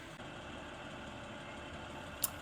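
Mercedes SL R230 engine idling with the roof partly closed, a steady low rumbling hum holding even and continuous throughout, with one brief sharp click near the end and no talking.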